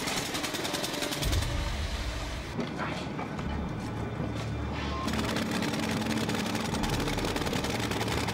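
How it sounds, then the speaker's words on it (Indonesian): Loud, steady machine drilling at a mine, a dense rattling roar that continues throughout with a brief dip in the middle. "ayah Mads malah terlihat ketakutan dan panik karena suara mesin bor"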